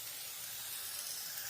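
Chicken fries in a pan with a steady, bright sizzle, an even close hiss that holds without pause and with no voices.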